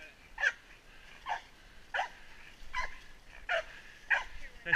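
A large dog barks repeatedly at a distance during a hunt, six or so sharp barks spaced about a second apart over a quiet background.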